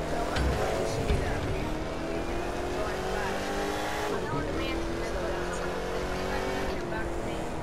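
A car in the racing game The Crew 2 drives through a police chase, its engine droning steadily with rising and falling revs, alongside game noise and chatty voices for the whole stretch.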